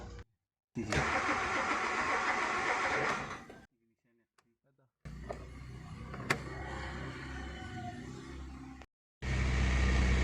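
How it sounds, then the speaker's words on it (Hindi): A Hyundai i10 that sat unused for over a month cranks and then catches, its engine starting and settling into a running idle, with bursts of cranking broken by short pauses and someone talking. "एक 5-6 बार ट्राई करने के बाद गाड़ी स्टार्ट हो गई।"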